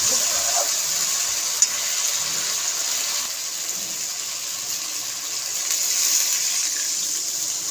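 Water pours steadily into a cooking pot, a continuous close gushing splash with a faint clink at one point and no talking.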